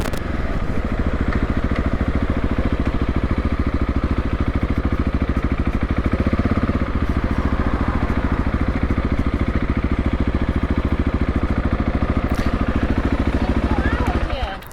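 A KTM 690 SMC R motorcycle with teething problems runs steadily at idle. The single-cylinder thump is loud, close and continuous, with a faint clatter on top and no speech over it.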